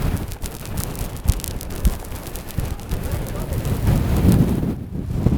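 Strong wind buffets the microphone on an open hill summit, with a steady, loud roar and gusty rumbles throughout.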